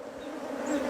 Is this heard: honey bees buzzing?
yes